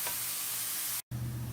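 Grated cauliflower hitting a hot pan of toasted ingredients gives a steady, hissing sizzle that breaks off for an instant and then resumes, close and even in level.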